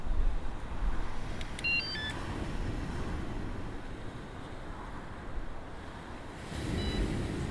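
A bike security alarm arming at a winter coastal wildcamp gives a short run of faint electronic beeps near the start, half buried in steady wind and surf noise.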